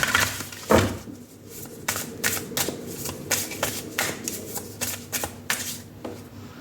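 Tarot cards being shuffled by hand, close up: a steady series of crisp slaps and riffling snaps, with a few louder bursts over several seconds.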